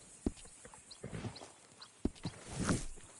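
A horse walks with hooves clip-clopping, a few sharp irregular strikes at close range, quiet, with no talk over them.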